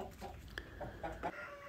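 Wyandotte chickens and roosters clucking in short, repeated bursts at moderate distance, with a brief call standing out midway and no talk over them.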